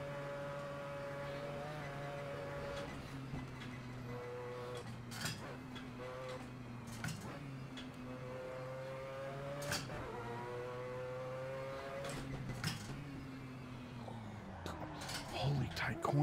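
A race car engine in a racing video game whines and shifts pitch as it revs up and down through gear changes, with sharp ticking clicks over the steady drone.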